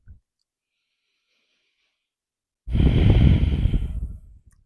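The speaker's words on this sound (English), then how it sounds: "Breathing deeply through the nose." Deep nasal breathing during a yoga hip-opening session held in child's pose: a single long, loud exhale hisses out close to the microphone after a stretch of near silence.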